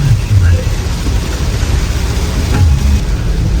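Steady rain falls in Jaipur as a continuous broadband hiss with a dense low rumble underneath, loud and unbroken from start to finish.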